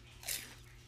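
A single crisp crunch of a bite into a Panda Express chicken egg roll, close up, in an otherwise quiet moment.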